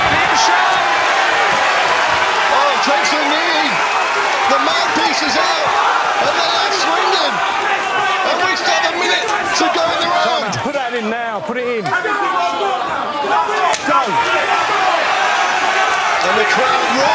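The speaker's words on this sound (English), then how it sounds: "The crowd roaring with approval" A packed arena crowd roars and cheers throughout a Cage Warriors MMA fight in London, a loud continuous wall of noise with a commentator talking over it.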